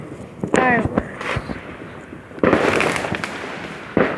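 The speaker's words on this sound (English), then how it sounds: "Some big fireworks." Big 4th of July fireworks bursting outdoors, several loud booms with crackling tails spaced a second or more apart, with wind buffeting the microphone and a person talking faintly between blasts.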